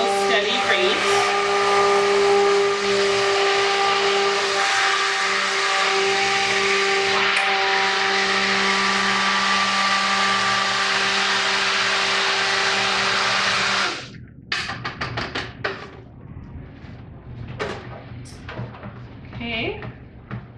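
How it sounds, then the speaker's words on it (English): Stick blender whirring steadily as it mixes patchouli soap batter while lye water is poured in, a loud continuous motor hum that cuts off abruptly, followed by quieter clatter and handling noises. "Now I'm going to start with my stick blender"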